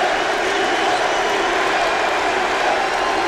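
An arena crowd at a mixed martial arts fight cheers and roars in a steady, loud wash of voices, sustained without pause and with no single voice standing out.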